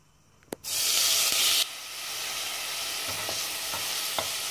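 Chopped onions dropped into hot olive oil in a saucepan: a sudden loud sizzle bursts in, then settles into a steady frying hiss with faint stirring clicks.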